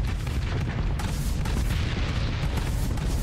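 Repeated Solos cannon fire in Starsector hits a ship's hull as a dense, continuous low booming roar, loud and steady throughout with no talking.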